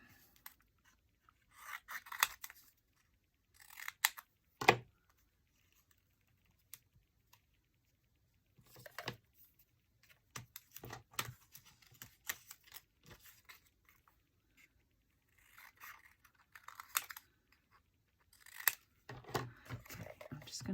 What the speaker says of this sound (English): and find my scissors